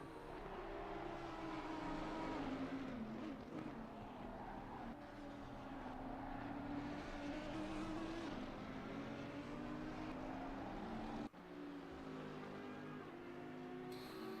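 Race cars in a sim racing final round, likely Assetto Corsa Competizione, drone steadily throughout as lapped traffic closes ahead, with engine notes rising and falling under a constant loud roar and a brief gap near the end.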